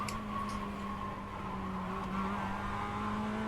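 A Mazda MX-5 braking hard at Summit Point in iRacing, engine note dropping through steady tones as the tyres hum and squeal continuously near the limit, with no voices.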